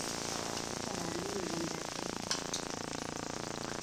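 Paneer fried rice sizzles steadily in a hot pan while being stirred, a close, continuous crackle and hiss with a brief scrape of the spatula partway through.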